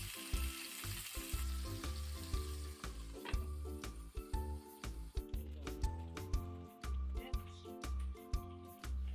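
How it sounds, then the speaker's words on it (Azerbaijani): Chicken pieces fry in oil in a pan, starting a bulgur dish, with a steady close sizzle broken by repeated stirring knocks and scrapes of a utensil. "Əvvəlcə toyuq ətini tavada bir qədər qızardıram."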